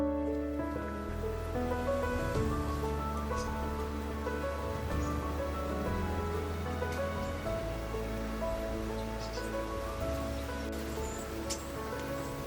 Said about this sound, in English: After a few hours it started to rain